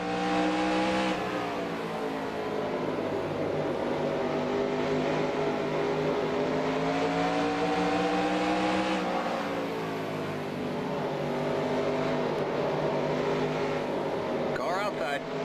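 Stock cars race at Bristol in the video game NASCAR Racing 2003, a loud sustained engine drone whose pitch rises and drops with shifts and throttle, steady throughout with a spotter's voice calling over it.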